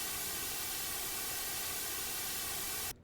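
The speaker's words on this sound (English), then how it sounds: "that's exactly what this white noise is doing for us" Steady, full-band white noise hisses loudly and evenly for about three seconds before cutting off abruptly.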